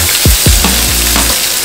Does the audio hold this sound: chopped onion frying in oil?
yes